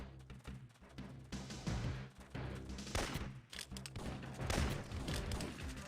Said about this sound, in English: Fucking combat shotguns everywhere.